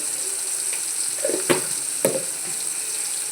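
Onions with salt frying in a pan, a steady bright sizzle throughout, close, with a couple of soft knocks of stirring and no speech.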